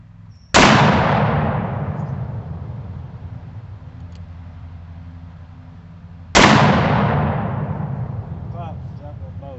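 Two very loud, close gunshots from a .454 Casull revolver firing hot rounds, spaced about six seconds apart, each a sharp blast with a long echoing decay across open ground.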